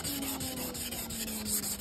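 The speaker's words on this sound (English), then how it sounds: "1200 on first, then 2000, and finished off with the machine polish." Car paint being machine polished with Auto Smart compound after wet sanding, a steady close whirring rub of the polishing pad with a constant motor tone, heard alone without talk.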